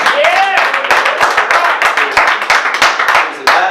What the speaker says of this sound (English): One more hand of applause for